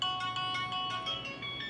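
A mobile phone rings with a bright electronic melody of repeating tones in a regular rhythm, heard fairly faintly indoors with no talking over it.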